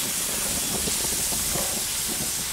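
Diced onion sizzles in a hot pan on a Weber Q gas grill, a steady close, loud hiss that carries unbroken through the whole clip without talk.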